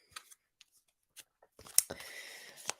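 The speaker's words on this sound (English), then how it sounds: "I'm just going to shuffle them and have a nice clear" A deck of oracle cards is handled and shuffled up close, with scattered soft taps and rustles that build into a denser riffling whir toward the end.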